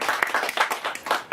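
An audience claps and cheers for a speaker at an event, with bursts of hands swelling and dipping in steady waves, close and fairly loud throughout.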